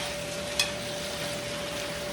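Shrimp with seasoning cubes sautéing in a pan over oil left from frying dried salted fish, giving a steady soft sizzle with one brief sharper crackle near the start.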